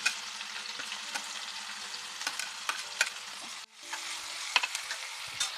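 Finely chopped onions and green chillies sizzle steadily in a pan, with scattered clinks and scrapes of stirring over the soft, continuous frying hiss, briefly interrupted then resuming.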